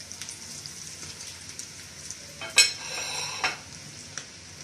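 Chicken pieces fry in oil for a chicken sandwich, a soft steady sizzle with scattered crackles. Two louder scraping bursts stand out midway as the pieces are turned over, and no one speaks.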